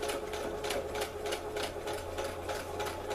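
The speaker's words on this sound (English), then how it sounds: "all I'm going to do is sew on that line. And don't forget to back stitch." Sewing machine stitching along a marked line on denim from old jeans, a steady rapid needle rattle with regular pulses, close and continuous throughout, no talking.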